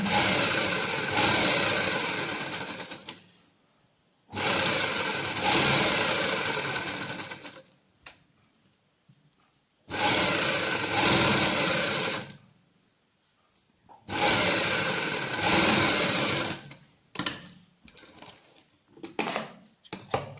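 A sewing machine stitches lace onto a salwar in four long, loud runs of steady whirring separated by short pauses, ending in several quick short bursts, with no talk.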